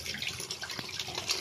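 Tap water runs steadily into a sink during dishwashing, a continuous close hiss with a brief clink partway through, no voices.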